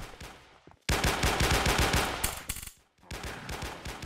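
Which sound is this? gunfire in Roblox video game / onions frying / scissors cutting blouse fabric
gunfire in Roblox video game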